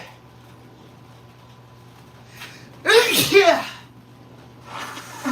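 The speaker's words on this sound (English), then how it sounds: "Oh, about to sneeze." A single loud, close sneeze bursts out after pepper gets up someone's nose during a live charcoal-grill steak cook, followed by a brief exhale and a spoken word.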